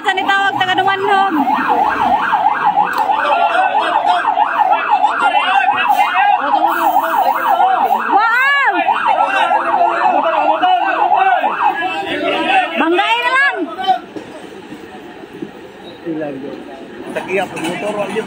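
A rescue vehicle siren wails in a fast rising-and-falling pattern as it arrives at a public market fire in Barili, Cebu. It is loud and close at first, then breaks off, with voices talking over and around it.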